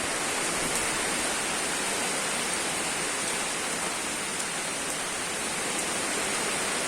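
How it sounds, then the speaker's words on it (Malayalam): Heavy rain with strong wind sweeping through coconut palms during a sudden downpour, a loud, steady, dense hiss that runs unbroken from start to finish with no voices. "നല്ല കാറ്റും മഴയാണ് ഇവിടെ വീശുന്നത്"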